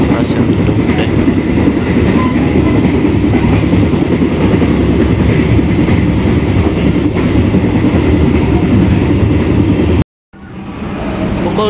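The KA Dharmawangsa train rumbles loudly and steadily near Bekasi on its Surabaya Pasar Turi to Pasar Senen run, with wheels clattering on rails, then cuts off abruptly before a quieter rise.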